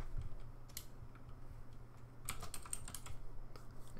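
Computer keyboard keys clatter in irregular bursts of quick taps, close and fairly quiet, with a denser flurry of keystrokes in the second half.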